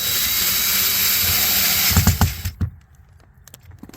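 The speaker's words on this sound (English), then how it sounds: "I'm gonna try to use the drill and the magnetized" A power drill with a number 2 Phillips bit whirs steadily while driving screws on a 2009 Cadillac CTS-V rear door panel, then stops, followed by a few quick clicks and knocks.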